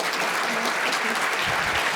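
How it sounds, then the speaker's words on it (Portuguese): An audience bursts into sustained applause, dense and even for the full two seconds, with no gaps or voices standing out. "eu queria pedir uma salva de palmas para a Sandra, que sumiu."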